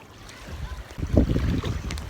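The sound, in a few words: wind blowing on the microphone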